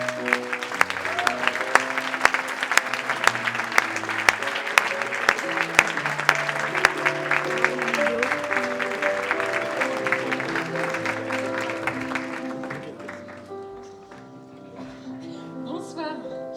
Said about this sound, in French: sous applaudissements